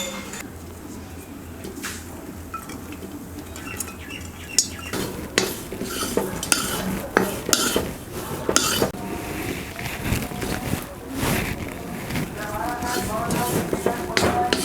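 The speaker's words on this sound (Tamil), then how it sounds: "அடுத்தது புளி வறுத்து எடுத்துக்கலாம்" Tamarind dry roasting in a pan for sambar powder, with repeated scraping and stirring clatters of a utensil against the metal pan, a spoken voice running alongside.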